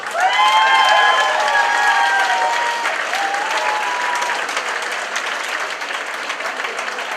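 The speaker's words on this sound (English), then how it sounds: "give these guys a round of applause" Loud, sustained audience applause at a boxing match at Kassam Stadium, a dense wash of clapping and some crowd noise, steady throughout.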